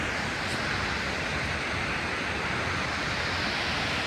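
A steady, even roar of rushing water from a waterfall at Baume-les-Messieurs, France, heard from a short distance near cliffs, constant with no voices.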